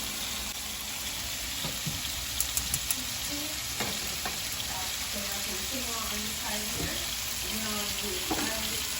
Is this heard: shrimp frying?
yes